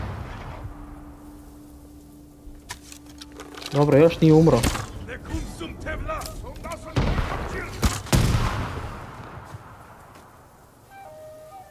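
An explosive arrow goes off in Ghost of Tsushima: Director's Cut among combat noises and bursts of in-game music, with someone talking over the game.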